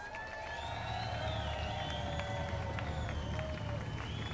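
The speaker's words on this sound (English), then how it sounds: "Please give him a warm round of applause." Outdoor political rally crowd in New York cheering and applauding as a speaker comes to the podium, a continuous roar of voices with whistles and claps over steady background noise.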